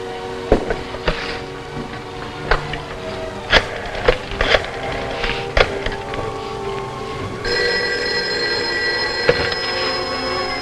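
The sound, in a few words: telephone ringing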